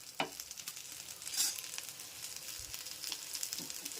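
Sweet potato and potato cutlets shallow-fry in a small amount of oil in a pan, giving off a soft, continuous sizzle with light crackles, close by and fairly quiet, with no talking.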